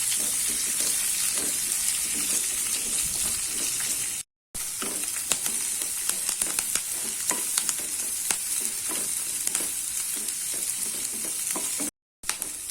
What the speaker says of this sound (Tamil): கொஞ்சமாக கருவேப்பிலை போடுறேன், இதையும் போட்டு நல்லா வதக்கிக்கலாம்